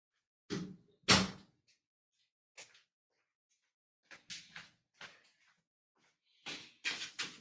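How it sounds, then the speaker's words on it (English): Indoor home door pushed shut, with a couple of close thuds and soft knocks followed by scattered light bumps and handling clicks in an otherwise quiet room. "I need to close this button door here."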